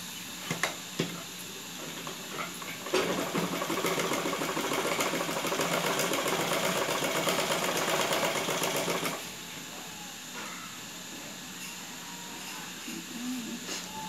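A sewing machine stitches cloth for a saree blouse back neck, running in one steady whirring burst of about six seconds between quieter pauses with faint clicks.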